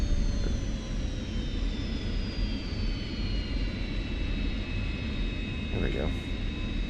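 F-86 Sabre jet in DCS World on its takeoff run, a steady loud engine roar with a thin whine that drifts slowly downward, continuous throughout, with voices heard over it.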